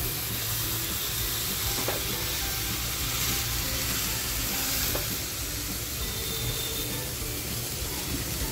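Kingfish (surmai) steaks cooking in a banana leaf without oil give a loud, steady sizzle throughout, with a couple of soft taps and scrapes as the fish is flipped.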